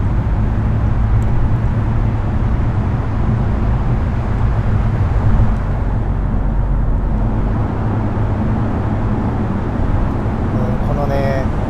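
Inside a Lotus Emira 2.0 driving on Tokyo streets in Tour mode, a loud, steady engine and road drone runs throughout, with a brief rising whine near the end.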